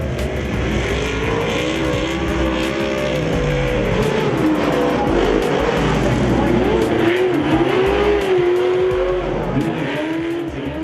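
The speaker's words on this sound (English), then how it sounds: "the SC8, the first 8th scale nitro 4-wheel drive, authentic race truck replica" Team Associated SC8 8th scale nitro 4-wheel-drive RC race trucks buzz continuously around a track, their high-pitched engines rising and falling in pitch as they accelerate, with tire scrubbing and steady loud motor whine throughout.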